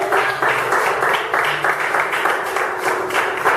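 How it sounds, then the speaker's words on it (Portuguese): A church congregation claps and applauds together in a dense, steady wash of hand claps that carries through the whole moment, moderately loud within the worship space. "Pode aplaudir o Senhor."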